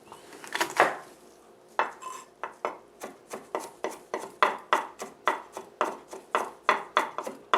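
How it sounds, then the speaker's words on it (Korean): Garlic being minced with a knife on a cutting board for a Korean dried pollack soup, giving a rapid, even run of sharp close chops after a few scattered taps, with no talking. "먼저 마늘을 다져서"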